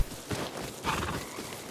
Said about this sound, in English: Is it that dude's horse from before?